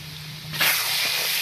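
Spices hit hot oil in a pan for tempering, a sudden loud hiss that holds steady for about a second without any talk.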